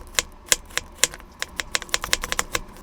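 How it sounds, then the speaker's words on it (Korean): A knife julienning cucumber and onion on a cutting board for a Korean cucumber salad. It gives a steady run of sharp, close taps that speed up into a rapid, even chopping rhythm. "오이는 쓴맛이 나는 양쪽 끝부분은 잘라주시고 반으로 잘라 채 썰어주세요"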